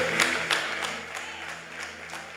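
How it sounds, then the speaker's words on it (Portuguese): A church congregation claps along in a steady rhythm, crisp hand claps repeating about three times a second over a soft sustained musical backing, moderately loud and fairly close. "Aleluia, aplauda o Rei."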